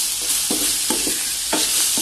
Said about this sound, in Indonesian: Kita tumis sampai berubah warnanya